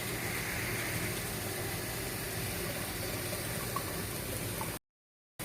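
Steady broadband rushing and splashing of water filling a bucket about three-quarters full, continuous and close, ending abruptly.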